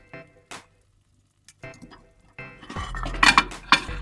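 Clinking dishes and cutlery as a hot plate of kalakand is lifted out of a microwave oven after six minutes of cooking, a few sharp knocks and clatters close by, ending in a louder burst of handling.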